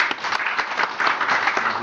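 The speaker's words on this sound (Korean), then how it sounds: "우리 서로 박수로 격려하고 환영을 합시다" Applause from a class of adult students in a book-summary course, dense steady clapping filling the room for the full stretch, with no talk over it.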